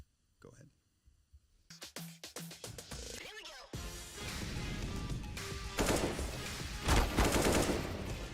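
Counter-Strike highlight kills open with a few sparse, sharp gunshots, then give way to dense, loud bursts of rapid rifle fire and impacts that build toward the end, with a voice partly heard over them.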